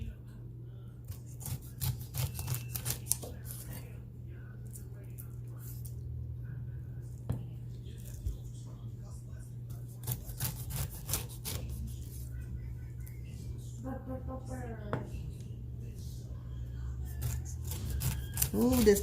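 A knife cutting the skin off a pineapple, with scattered rasping scrapes and short slicing strokes under a steady low hum. A voice speaks briefly near the end.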